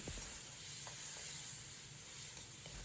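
Tomatoes diced and stir-fried in a wok over garlic and scallion oil give a steady, moderate sizzle throughout, with a few faint clinks of a spatula stirring.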